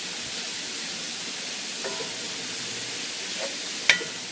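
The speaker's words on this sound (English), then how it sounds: "while this meat is continuing to fry up" Meat frying in a single pot with chili powder mixed in, a steady close hiss of sizzling with a few faint clicks and a sharp tap near the end, no talk.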